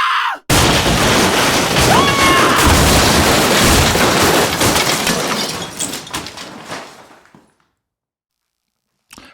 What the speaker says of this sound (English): the smashing of glassware and crockery